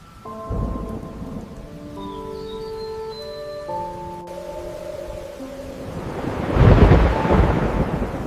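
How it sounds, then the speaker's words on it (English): A thunderstorm with heavy rain: steady rainfall patters throughout while deep thunder rumbles, swelling into a louder roll near the end, with soft tonal music layered underneath. "Oh, the storm is getting stronger."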